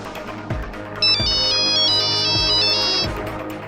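A telephone rings for an incoming call with a bright electronic ringtone, a repeating melodic pattern of tones that sounds clearly over a low, rhythmic background.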